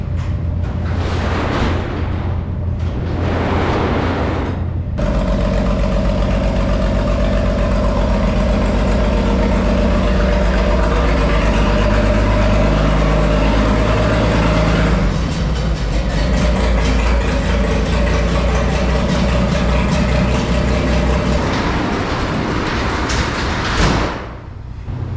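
A Farmall 460 tractor engine idles after a hard cold start, a steady low rumbling drone with a clatter of other noise in the first few seconds, no talking.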